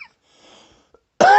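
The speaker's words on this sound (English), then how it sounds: "I got the cough for some reason today" A man cleaning a Canik TP9SA pistol coughs once, loud and close, after near silence broken only by a faint rustle.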